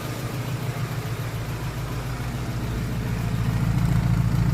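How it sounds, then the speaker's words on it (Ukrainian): A VAZ 21099 car engine idles steadily with a low, even rumble that builds slightly toward the end, close by, with no talking. "вполне адекватно працює двигун"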